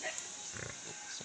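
Piglets grunt faintly in a brief moment outdoors, with a couple of soft, low grunts against a noisy, hissy background.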